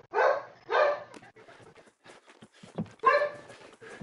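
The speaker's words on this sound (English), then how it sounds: "Did you hear this fucking dog?" A dog barks in short loud bursts, two close together and then another after a pause, with small yips and scuffing sounds in between.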